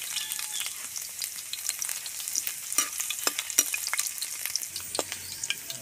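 Garlic sautéing in oil in a pan for a Filipino pancit guisado, a steady soft sizzle with scattered sharp crackles and light utensil clicks, close up and without talk.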